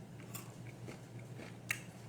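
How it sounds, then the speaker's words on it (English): Someone crunches through dehydrated pumpkin cookies in a few faint, sharp bites and chews, with one louder crack near the end over a quiet background. "I can't stop eating them."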